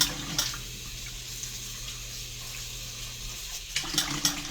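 Water pours into a kettle holding a stick of butter for sauteing, a soft steady trickle and splash with a louder burst of sloshing near the end.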